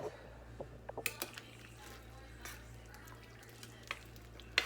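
Charro beans stirred in a pot, with a few light scrapes and clinks of the utensil against the pot over a low steady hum, no talking.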